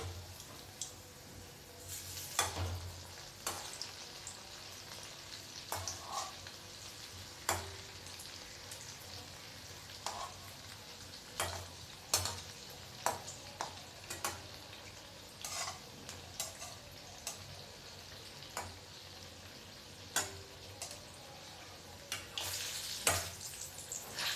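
Bora fritters sizzle steadily in hot oil in a home kitchen, with scattered sharp taps and scrapes as each fritter is turned one by one, close and continuous with no talk.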